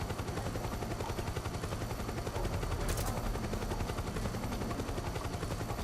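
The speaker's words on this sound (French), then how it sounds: "Hélicoptère de merde." Helicopter in the Metal Gear Solid 4 video game throbs as a steady, dense rotor roar mixed with rapid gunfire-like chatter, continuous and fairly faint throughout, with no voices.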